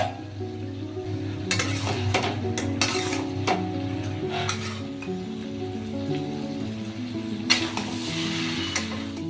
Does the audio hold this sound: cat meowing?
no